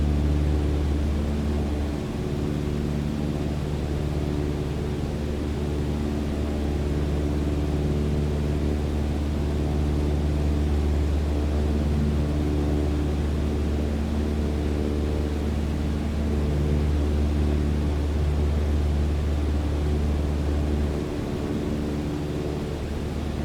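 Steady, loud propeller-aircraft engine drone from Microsoft Flight Simulator 2020 as the throttle is advanced over Ohio under overcast skies, a continuous low hum with strong tonal harmonics and no pauses or talk.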